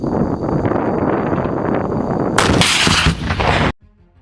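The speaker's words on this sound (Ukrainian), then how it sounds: "Постріл!" A loud, close artillery blast erupts with a heavy roar, following a stretch of wind-buffeted rumble, then cuts off abruptly.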